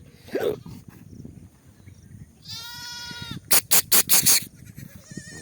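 Sheep in a resting shepherd's flock bleat loudly and close, one drawn-out wavering call followed by a run of sharp, rapid bleats over quiet rustling.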